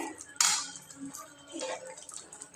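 Crab claws and bodies dropped into masala in a pan, giving a sharp clatter near the start followed by lighter scraping and clinking of pieces against metal.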